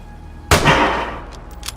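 A single sharp gunshot from a firearm in the video game Vigor, loud and close, with a broad decaying tail and a few faint clicks afterward.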